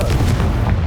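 The Confringo fire spell cast in Hogwarts Legacy: a brief, loud, deep burst with a rumbling low-end boom that fills the whole moment.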